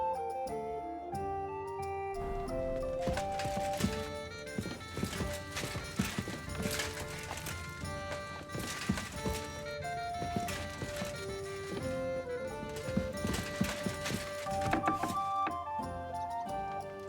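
Hoofbeats of a ridden horse in the medieval world of Kingdom Come: Deliverance II, a steady clip-clop running throughout under a loud, continuous musical score.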